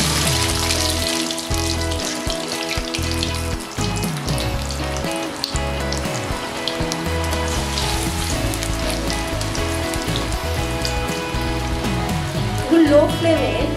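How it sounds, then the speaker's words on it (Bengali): French fries fry in hot oil over a low flame in a wok, a dense, continuous crackling sizzle like steady rain that holds evenly close by for the whole stretch. "লো ফ্লেমে ফ্রেঞ্চ ফ্রাইগুলোকে ভেজে নিতে হবে"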